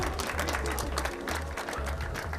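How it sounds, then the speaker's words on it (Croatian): An audience at a Zagreb hippodrome race day applauds the winning racehorse Magic Move: steady crowd clapping over a low, rhythmic background hum, lasting the full couple of seconds. "Molim vas jedan veliki aplauz za pobjednika u ovoj utrci, Magic Move."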